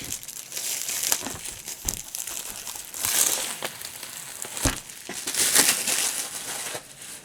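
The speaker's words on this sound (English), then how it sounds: "the Diamond Art Club box comes safely packed in an extra layer of plastic" Plastic wrapping around a Diamond Art Club box crinkles and crackles in irregular close-up bursts as it is handled and unpacked, with no voices.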